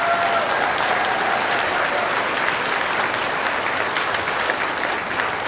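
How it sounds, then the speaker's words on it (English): Audience applause for teachers at an elementary school awards ceremony, a thick, continuous roar of many hands clapping, loud and sustained throughout, with faint crowd murmur underneath. "Can we give one more round of applause to all of our teachers?"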